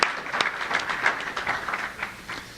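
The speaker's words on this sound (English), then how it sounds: "Let's give them all a round of applause." Scattered applause from a morning audience welcoming Cristo Rey school students as they stand to be recognized, a steady patter of hand claps filling the room briefly.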